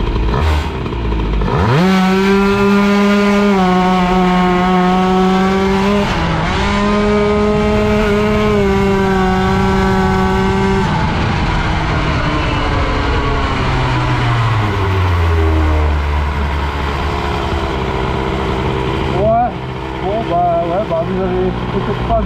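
A scooter fitted with a boosted Airsal 77 XT kit accelerates hard, its loud, close two-stroke engine wailing up in pitch, dropping briefly, then climbing again before easing off into a lower drone.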